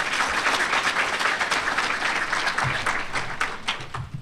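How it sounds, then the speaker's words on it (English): An audience at a physician assistant white coat ceremony gives a dense, sustained round of applause that stays steady and slowly thins toward the end. "So a round of applause to the families."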